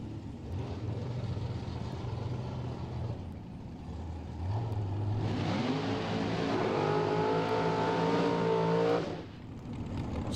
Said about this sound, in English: supercharged dragster. Carlisle Tools also got a blower on it. They make a different sound.